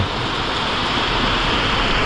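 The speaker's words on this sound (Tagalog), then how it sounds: "biglang ang lakas ng ulan" Heavy rain pours down on the mountain road near Suyo and Bessang Pass, a dense, loud, unbroken hiss of water that fills the whole moment with no voices over it.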